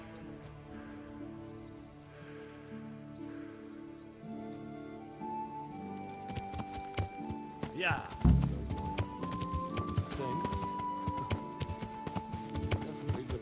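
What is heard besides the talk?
horses running in video game Kingdom Come Deliverance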